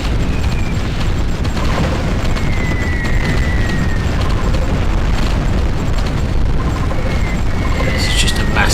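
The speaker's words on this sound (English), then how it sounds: "Mass explosion as our units close in. Constant explosions." A continuous barrage of explosions in the war strategy game Supreme Ruler Ultimate rumbles with dense, overlapping booms and bursts at a steady loud level throughout, with a few faint whistling streaks above.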